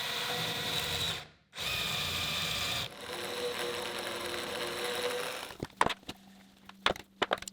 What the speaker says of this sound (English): I've prepared the right size drill bit with a depth stop, so now drilling and then screwing them in